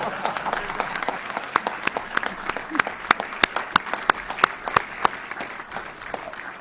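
Audience applause at a Virginia economic development announcement, sharp individual claps standing out over a steady crowd clapping bed, with a voice speaking briefly underneath.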